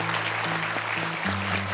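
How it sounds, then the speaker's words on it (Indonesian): Studio audience on an Indonesian Quran-memorization TV competition applauding the jury, a steady wash of clapping heard over a low sustained musical tone that shifts pitch partway through. "Boleh tepuk tangan untuk dewan juri"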